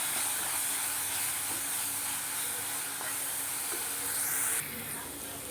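Spices and tomato sauté in a hot oiled pan for a Chettinad-style fish curry, giving a steady, close sizzle and hiss that stays constant throughout before easing slightly near the end.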